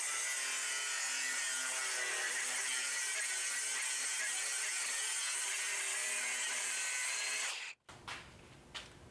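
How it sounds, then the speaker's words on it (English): An angle grinder with a cutoff wheel cuts along a straight edge clamped on steel for a beginner welding chiminea project, a loud continuous bright grinding screech lasting most of the clip before cutting off abruptly, followed by brief quieter clatter. "have at it with a grinder with a cutoff wheel"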